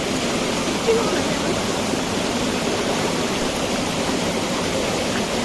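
Steady rushing water flows continuously through a village irrigation channel, a broad even wash of sound close by, like a small channel running fast.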